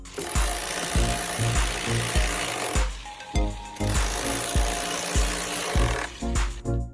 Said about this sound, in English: They use specialized power carving tools to cut precise notches so the logs can fit together perfectly.